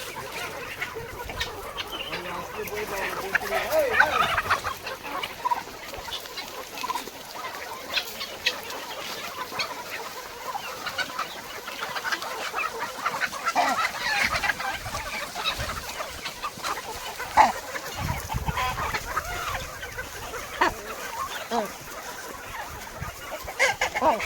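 Several chickens cluck and murmur nearby while feeding on paddy grain, with scattered louder squawks over a soft outdoor morning background; no one speaks.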